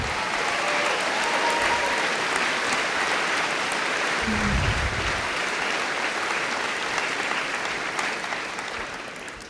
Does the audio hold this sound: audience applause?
yes